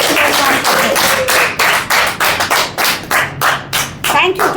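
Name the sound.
applause at a Toastmasters club meeting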